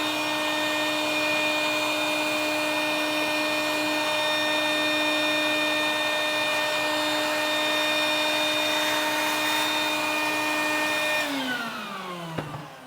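Shop vacuum with a Sidewinder crevice tool cleaning out a car's center console and storage compartments, a steady loud whine with strong tonal hum throughout, then the motor winds down near the end.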